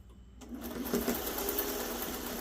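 A sewing machine stitching quilt block pieces together starts up after a brief quiet moment and runs in a continuous fast, close mechanical whir and chatter.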